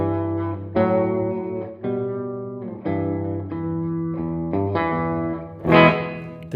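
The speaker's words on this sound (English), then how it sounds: "I'm going to put the mid at the mid and turn the bass up. And I get this long reverb" An instrument plays through a UAFX compact reverb pedal with treble cut and bass raised, producing sustained, distorted tones whose long reverb tails linger on the low end across a series of played notes.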